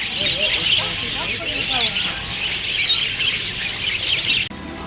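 Several birds squawk and chirp while fighting over food at a Panama City Beach zoo, a busy, overlapping chorus with sharp calls breaking through a steady noisy background and people talking faintly nearby.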